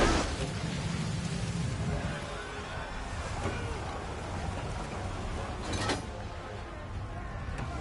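Steady rain and low rumbling thunder in an Assassin's Creed 3 naval setting, a continuous wash of rainfall with a couple of sharper cracks, heard faintly under a voice.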